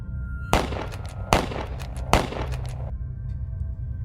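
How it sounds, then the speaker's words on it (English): Three loud gunshots ring out about a second apart in a narrated horror story, each a sharp blast with a decaying tail, over a low rumbling background. "I raised my gun and shot at it."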